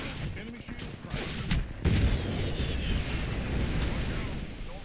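Gunfire in an Apex Legends match, a steady mix of shots and impacts with a louder burst of blasts near the middle, dense and fairly close throughout.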